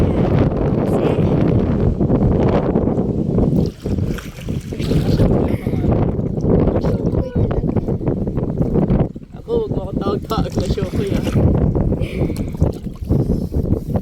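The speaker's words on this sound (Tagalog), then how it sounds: "ang hirap magsagwan, malakas ang hangin" Strong wind buffets the microphone over steady water and rowing noise from a boat, with people talking throughout.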